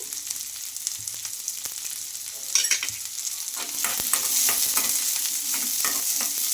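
Chopped onions and green chillies fry in a pan with a constant close sizzle and scraping stirs, growing louder and busier partway through, with no voices.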